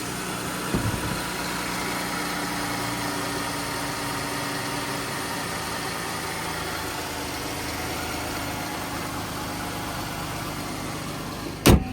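A 2014 Jeep Grand Cherokee Limited engine runs steadily, a smooth, even mid-pitched hum with a faint low rumble, with a soft thump near the start and a sharp knock just before the end.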